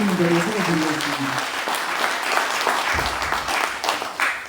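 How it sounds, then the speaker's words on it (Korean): An audience at a Korean event claps a steady round of applause for two guests, a retired army general and a writer. The applause is moderately loud and runs under a speaking voice at the start. "두 분 먼저 큰 박수로 맞아주시기 바랍니다"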